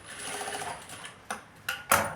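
A sewing machine runs a top stitch along a size-40 blouse, a low steady whir followed by three sharp mechanical clacks that grow louder toward the end, with no voices.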